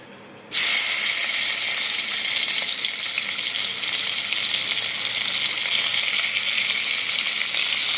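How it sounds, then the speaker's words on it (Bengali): Chopped onions drop into hot oil in a pan where prawns were just fried, bursting into a loud, steady sizzle that holds unbroken to the end, with no voices. "এবারে ওই তেলের মধ্যে আমি দেবো পেঁয়াজ কুচি,"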